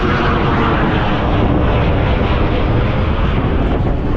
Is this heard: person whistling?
no